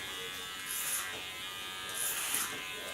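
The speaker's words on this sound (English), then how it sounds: "take my Kiona clipper" Kiona electric hair clipper cutting hair on a boyish pixie cut, a steady high electric buzz swelling louder in two brief passes, close and alone without talk.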